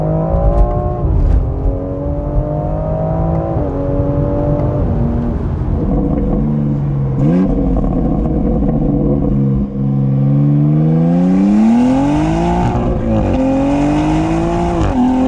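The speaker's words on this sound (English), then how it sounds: "We'll slow right down and give it some gas again." A performance SUV's engine is pushed to full throttle, its loud, close drone climbing in pitch through several gear changes with a brief dip and a hard rev surge near the end, heard from inside the cabin.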